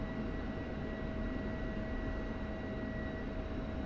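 F-16C Viper jet in the DCS flight simulator, a steady unbroken engine roar with a constant whine, heard from the cockpit with no talk.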